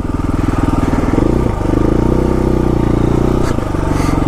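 A dual sport motorcycle labours up a soft dirt incline on a West Virginia ridge road, its engine droning steadily and loudly close by with a brief clatter partway through.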